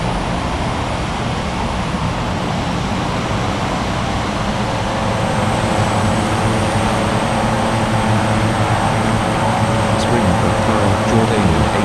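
An airliner in an air traffic control game rolls down the runway for takeoff, a steady loud engine roar and rumble that holds without a break, with no voices over it.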